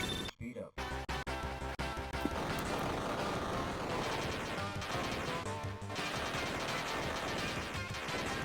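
Cannon fire from the Amiga shoot-'em-up Menace, a dense barrage of game gunfire and explosions pounding continuously over loud synth music, with a brief drop-out near the start.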